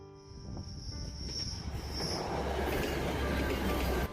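A train rolls into Forsinard Station in the Flow Country, Scotland, with a low rumble that grows steadily louder, wheels squealing faintly on the rails while a high insect-like whine hangs over it.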